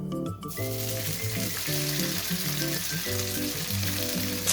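Loud, steady sizzling of garlic and cherry tomatoes frying in a hot pan, a dense crackle that continues throughout, with music playing underneath.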